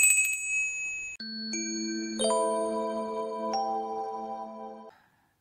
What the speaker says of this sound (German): Ja, das sind die Glocken meiner Großmutter.